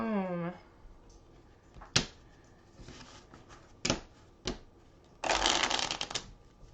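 Playing cards for the Ticket to Ride board game are shuffled close up, with several sharp riffle snaps and a longer, louder riffle near the end; a brief voice is heard at the start.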